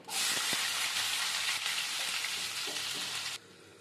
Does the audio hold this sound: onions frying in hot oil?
yes